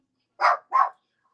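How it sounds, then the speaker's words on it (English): A dog gives two quick, close barks in succession, then quiet. "They barking up the neighbors."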